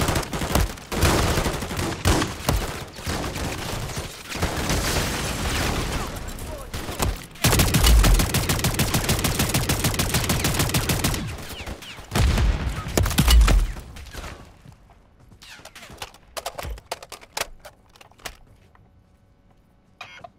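Bursts of gunfire and explosions from Call of Duty MW3 zombies mode, a video game, dense and loud for most of the stretch, then thinning out into scattered shots and quieter gaps toward the end.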